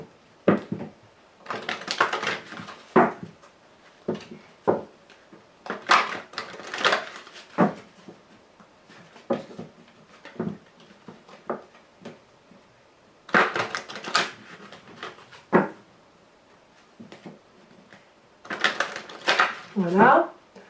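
Lenormand cards shuffled and cut in bursts of crisp riffling and slapping, with quiet gaps between; a French-speaking voice talks in between the shuffles.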